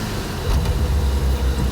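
A Nissan R34 Skyline's engine drones steadily as it is shifted into third gear, a continuous deep rumble with a slight lift partway through and no clear separate shift clunk.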